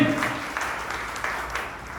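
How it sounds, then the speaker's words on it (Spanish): Congregation applause during a church service, a steady wash of clapping at moderate level with a faint voice briefly under it. "Un aplauso al Señor."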